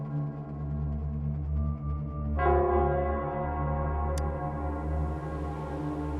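A bell rings in the Nell Squares area of the video game Wuthering Waves, a deep sustained tolling with long ringing overtones, one strong strike midway, a brief bright chime near the end, no voices.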